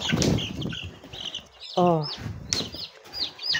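Chickens cluck and squawk close by, with short choppy calls and one drawn-out squawk among rustling movement.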